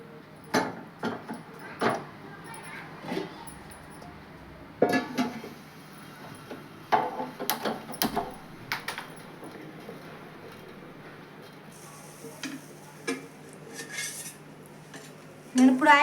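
A pan set onto a stove for frying drumstick leaves, heard as sharp metallic clanks and rattles of cookware, clustered near the start and again toward the end, with quieter handling between.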